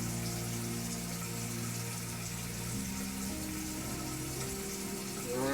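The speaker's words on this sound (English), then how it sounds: "you just put a little bit of water on your hands." Water runs steadily from a tap into a sink for face washing, a continuous close gush with faint droning hum beneath it and a small splash at the end.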